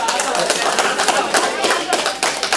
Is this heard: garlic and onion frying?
no